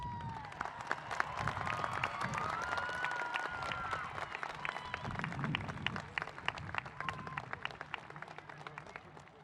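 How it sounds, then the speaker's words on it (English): Graduation ceremony audience applauding the readers, scattered clapping in a large space with some crowd murmur and faint cheering, fairly distant and soft. "please join me in a well-deserved round of applause for our readers"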